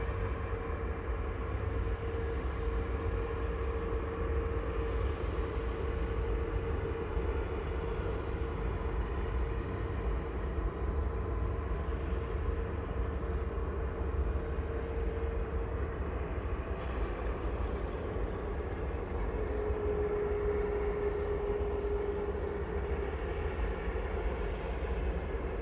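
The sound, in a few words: airliners at Manchester Airport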